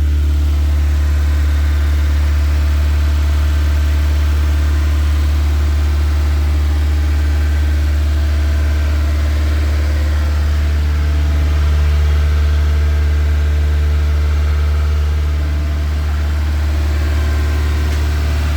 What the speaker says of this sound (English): Idling at 2000 RPM at the moment, which is ridiculous